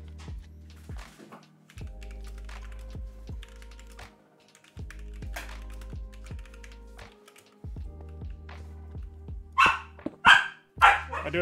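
A dog indoors barks in a run of sharp, close barks, then a few louder barks near the end, with keyboard-like clicks and thunks in between.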